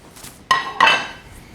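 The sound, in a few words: walnuts, pepitas and sunflower seeds dry toasted in a pan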